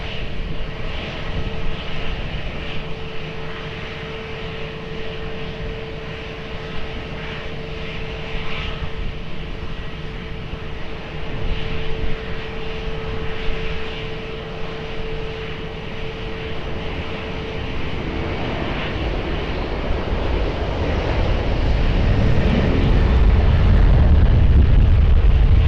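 A TAP Air Portugal airliner takes off from runway 20 at Lisbon Airport, its engine roar holding steady and then swelling into a loud, deep rumble toward the end, with no voices over it.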